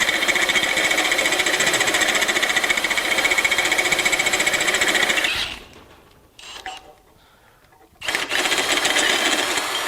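Cordless Milwaukee drill set to drill mode on the clutch, driving a Champion step reamer through half-inch steel plate: a loud, steady grinding buzz for about five seconds, then it stops, with a short quieter burst and a restart near the end.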